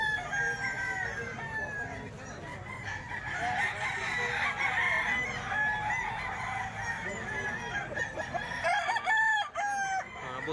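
Roosters for sale at a market crow repeatedly, several overlapping calls near and far over a busy crowd murmur and clucking hens, with a few bright sharp crows near the end.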